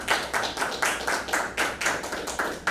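An audience at a health-law colloquium in Lima applauding, a dense run of hand claps in quick rhythmic bursts, steady and fairly close for a few seconds.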